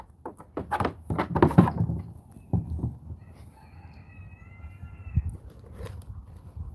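Cat meowing indoors with several short, fairly close meows clustered early, then quieter rustling and a faint tonal hum in a kitchen pantry setting.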